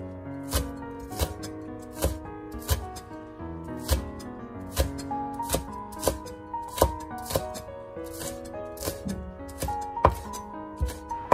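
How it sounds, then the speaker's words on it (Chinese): A kitchen knife chops fresh green onions into small scallion pieces on a board, giving a steady run of sharp, close taps at an even rhythm, with quiet music playing underneath. "把它切成葱花"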